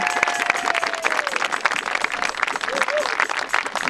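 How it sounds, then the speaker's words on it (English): A crowd applauds a speaker named Gary Null at an Indian Point public event, brisk clapping from many hands with cheering mixed in and people talking over it. "let's give him another quick round of applause"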